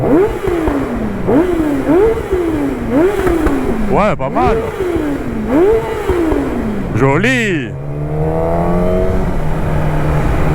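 A Kawasaki ZX hypersport motorcycle engine revs hard in repeated rising bursts, climbing to a screaming peak before settling back to idle; a voice speaks briefly over it.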